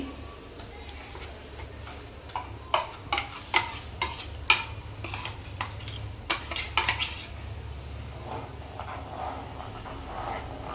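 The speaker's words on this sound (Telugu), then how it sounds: "అడుగంటకుండా కలుపుకుంటూ ఉండాలి" Spoon stirring almond-cashew paste into boiling milk in a home kitchen pot while making ice cream, a run of light metallic clinks and scrapes clustered in the middle, close and moderately loud over a low steady hum.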